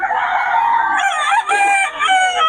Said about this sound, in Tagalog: Parang hen ito.